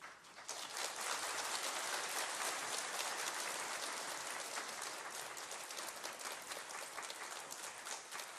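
A church congregation applauding loudly and steadily during a plaque presentation to the pastor, a dense wash of many hands clapping that holds for several seconds without talk.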